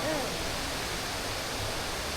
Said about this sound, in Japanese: 世界最長の屋内人工滝。